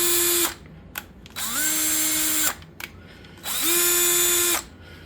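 A Craftsman V20 cordless drill with an overheated motor and shattered fan blade whirs up to speed in two long, loud bursts, with a quick blip between them and near-silence in the gaps.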